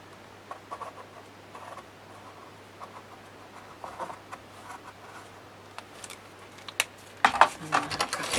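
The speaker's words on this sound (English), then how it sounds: "So I'll try to line it up and just draw around it." A pen scratches quietly across paper while tracing around a paper tag shape, in faint intermittent strokes close up, ending in a louder burst of rustling.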